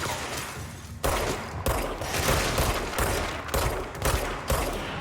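Rapid bursts of gunfire from the video game Control, loud and close, with repeated volleys of shots separated by brief gaps across the whole stretch, no talk over it.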